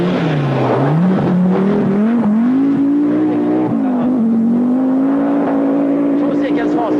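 Rally car with an ignition fault driven flat out on a forest stage, a loud close engine note rising and falling through gear changes and revs, heard under a commentator's voice throughout.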